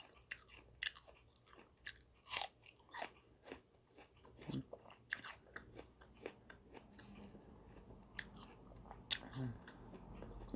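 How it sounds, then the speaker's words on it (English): Bites and chews into a crunchy Honeycrisp apple at breakfast, with sharp crisp crunches recurring irregularly up close, followed by softer wet mastication in a quiet room. "Do you hear that crunch?"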